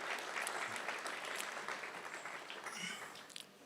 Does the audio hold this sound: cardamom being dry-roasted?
no